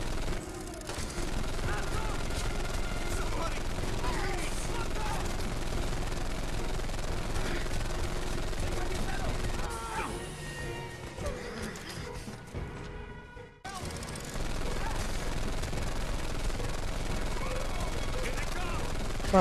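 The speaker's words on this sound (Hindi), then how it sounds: "इसका मशीन गन कहते इसे, थोड़ा सा देर देर के चलाना पड़ेगा" Sustained machine-gun fire rattles through a Brothers in Arms 3 battle, dense and continuous under a player's running talk, with a brief dropout near the end before the noise resumes.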